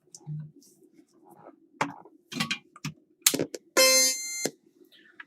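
A Mac SE/30 boots: scattered clicks and mechanical ticks, then a single loud, bright electronic startup chime rings out for about a second before fading to quiet.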